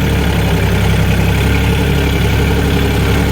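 A farm tractor's engine runs steadily at idle, a loud close throbbing drone with an even low pulse, unbroken and alone.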